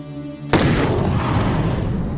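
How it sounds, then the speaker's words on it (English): Massive accidental explosion of the Halifax disaster kind, a sudden loud boom breaking in after half a second of low tonal hum, then a long, dense rumbling roar that stays loud to the end. "Largest accidental explosion."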